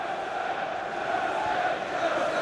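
A football crowd at a Chelsea v Newcastle United League Cup match keeps up a steady, distant roar and murmur, an even wash of stadium noise with no distinct chants standing out.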